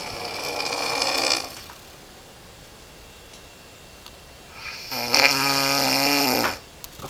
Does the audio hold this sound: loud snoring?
yes